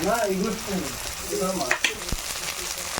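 Onion, garlic and ginger paste fry in oil with whole cumin, bay leaf and garam masala, a steady sizzle running beneath a talking voice, with a few sharp utensil clinks toward the end.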